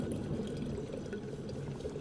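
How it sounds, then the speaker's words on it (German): Water is poured for drinking in the video game Prey, a soft steady splashing pour running continuously and fairly quietly. "Können wir noch ein bisschen Wasser trinken."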